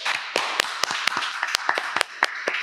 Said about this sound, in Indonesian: tepuk tangan untuk Om Dev